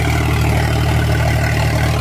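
Close and constant, an unsilenced Eicher 551 tractor diesel pounds out an even, gravelly drone with a deep repeating pulse and metallic clatter on top, no voices over it.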